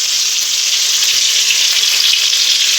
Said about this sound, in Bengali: এই যে আলু ভাজা হচ্ছে